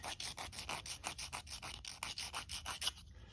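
Rapid rhythmic sanding strokes on a plastic model kit part, close and scratchy, about six per second, steady back-and-forth rasping that stops abruptly near the end.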